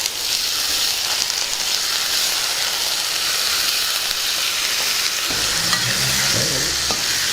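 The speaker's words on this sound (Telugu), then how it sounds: "ముందుగా శుభ్రం చేసుకున్న బఠానీలు ఇందులో వేసేసుకుందాం అలాగే క్యాలీఫ్లవర్ కూడా ఇందులో వేసుకుందాం" Peas and cauliflower stirred in a hot frying pan, a steady loud sizzle with scraping stir strokes throughout, and a deeper clatter of vegetables and spoon near the end.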